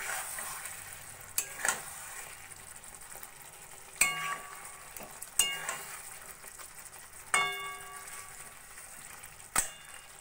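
A spatula stirs rohu fish curry with spices and slit green chillies in a pan. Soft sizzling runs throughout, broken by five or six sharp, fairly quiet clinks of the utensil against the pan at irregular intervals.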